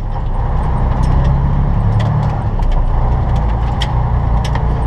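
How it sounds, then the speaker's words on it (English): A car cruising along a road at night, with a steady low engine and road rumble filling the cabin, plus faint intermittent light clicks and rattles inside, continuous and close, with no talking. "We're gonna be driving into the night."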